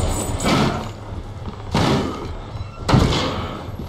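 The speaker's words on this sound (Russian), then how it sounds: "двери выколачивать он мастак" Heavy blows as an enemy bashes at a door in the horror game Outlast: three loud, booming thuds spaced about a second apart over a low ambient rumble, with no talking.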